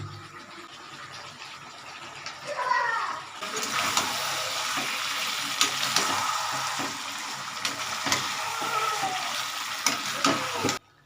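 Chicken frying in ghee in a pan, with tomatoes cooking alongside, gives a steady broad sizzle that swells loudly after a few seconds and keeps hissing with occasional stirring clatter until it cuts off.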